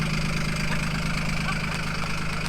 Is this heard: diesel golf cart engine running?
yes